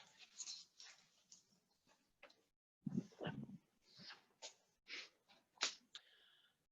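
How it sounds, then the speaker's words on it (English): A small dog whimpers and snuffles in a string of short, high, thin cries and sniffs, fairly faint and close, with brief pauses between them. "it might stop the little bugger from barking a lot"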